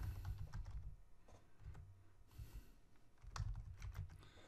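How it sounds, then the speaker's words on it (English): Typing a letter in Microsoft Word on a computer keyboard, soft, quiet clusters of key clicks arriving in uneven bursts with brief pauses, close and alone. "And now type your letter."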